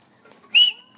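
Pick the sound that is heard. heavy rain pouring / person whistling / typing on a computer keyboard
person whistling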